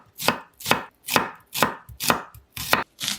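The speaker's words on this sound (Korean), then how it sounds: "양파는 반 개만 사용할게요. 가늘게 썰어주시고요." Knife slicing half an onion into thin strips on a cutting board, seven crisp evenly spaced chops in a steady rhythm, close and clear with no talking.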